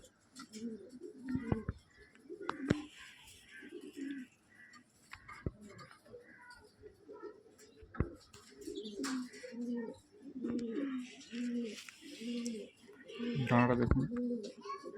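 A Chini Kaldama pigeon with a sixteen-feather tail coos in soft, repeated low bursts close by, broken by a few sharp clicks, while someone talks over and between the calls.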